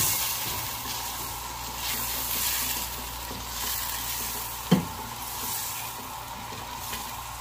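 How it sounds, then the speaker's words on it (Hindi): Spices with turmeric and black pepper frying in a pan, a steady soft sizzle with occasional stirring scrapes and one sharp knock midway, close and fairly quiet. "बस इस मसाले को अच्छा सा भून लेंगे हम लोग"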